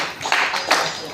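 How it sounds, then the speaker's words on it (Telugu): Audience clapping at a retirement function for a superintendent at a Bal Bhavan hall, a short burst of applause with a couple of louder swells, heard with voices mixed in. "ఒకసారి చప్పట్లు కొడతాం ఫస్ట్."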